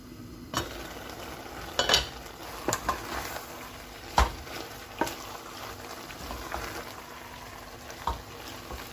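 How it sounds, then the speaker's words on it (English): Ground meat browning in a pan for Bolognese sauce, a steady low sizzle broken by scattered clicks and scrapes of a utensil stirring, close and moderately loud, with no talking. "Allow to cook until the meat becomes brown in color."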